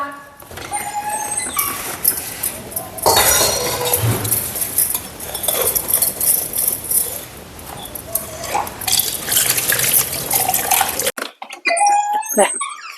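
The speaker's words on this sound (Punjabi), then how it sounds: "ਛੇਦੀ ਛੇਦੀ ਆਹ ਭਾਂਡੇ ਮਾਂਜ" Dishes being scrubbed and rinsed under running water in a home setting, with clattering utensils and steady splashing through most of the stretch before it cuts off near the end.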